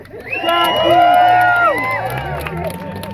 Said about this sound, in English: let's cheer for her one more time